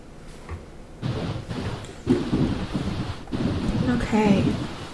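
A life-simulation game plays a rainstorm with rumbling thunder, a steady wash of rain and low booming swells, while a voice talks faintly over it.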